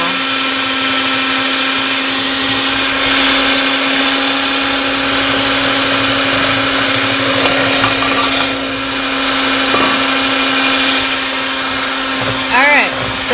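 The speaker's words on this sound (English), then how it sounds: "we're going to mix this till it's blended up" Electric mixer whirring steadily through pumpkin banana protein bread batter, a loud continuous motor drone with a strong steady hum, running nearly the whole time with brief shifts in pitch near the end.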